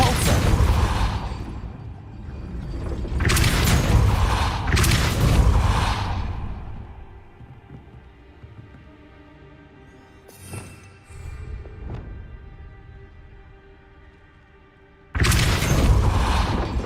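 The Confringo fire spell in Hogwarts Legacy lands in heavy, booming blasts, several loud bursts with whooshing tails separated by quieter stretches of low rumble and faint clinks, then one more explosion at the end.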